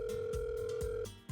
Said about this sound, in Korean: 김재훈님에게 스피커 모드로 전화를 걸게요.